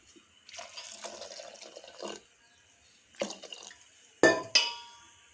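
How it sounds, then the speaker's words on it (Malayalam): Water runs into a pot in a couple of bursts before it goes on the stove, followed by two sharp clinks of metal or glass, close by and fairly quiet. "നമുക്കിത് അല്പം വെള്ളം ഒഴിച്ച് അടുപ്പിലോട്ട് വയ്ക്കും"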